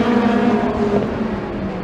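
Super Touring race cars at Brands Hatch, a loud steady engine drone close by, with no break over a couple of seconds.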